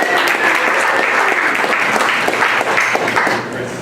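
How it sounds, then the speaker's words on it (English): Meetup audience applauding a corporate sponsor, steady dense clapping from a room of people that holds for nearly four seconds and then eases slightly at the end. "You guys give them a round of applause."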